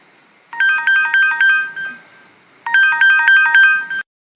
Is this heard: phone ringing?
yes